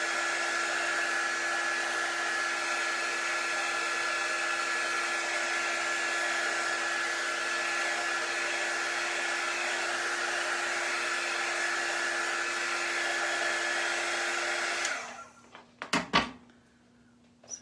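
A hair dryer blows steadily and loudly on a painted chalk board for about fifteen seconds, then cuts off, followed by a few brief clunks and knocks nearby.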